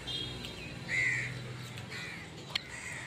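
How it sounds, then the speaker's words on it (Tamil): A crow caws once, faint and distant, outdoors on a drizzly morning, over a steady hiss of ambient noise. "என்னையும் வீடியோவில் காட்டுன்னு காலையிலே காக்கா வேற வந்துருச்சு."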